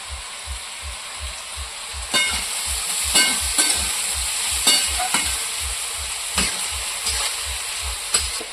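Meat frying in a pan with only salt on an outdoor fire, a steady sizzle under repeated scraping strokes of a spatula, close and fairly loud, with a low rhythmic thumping running underneath.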